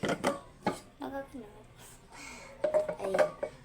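Dishes are washed by hand at a kitchen sink, with plates, pots and utensils clattering and clinking in scattered bursts while a person talks intermittently nearby.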